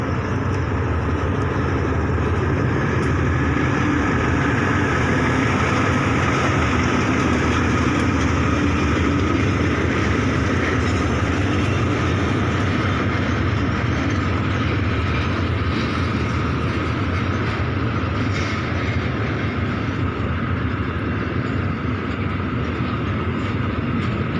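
An express oil tanker train, number 642, rolls past on a Thai railway line in a steady, continuous roar of wheels and wagons that stays loud and close throughout, with no voices.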